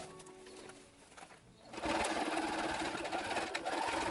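A sewing machine stitches the lining of an Imperial officer's hat, a quieter whirr at first, then a loud, steady run from about two seconds on, close up and with no talk.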